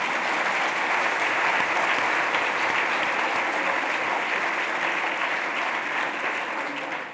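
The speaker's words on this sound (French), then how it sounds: "Vous pouvez applaudir parce qu'on les applaudissait." Conference attendees at an economics meeting give sustained applause for the speakers, dense even clapping running loud and unbroken for about seven seconds without voices.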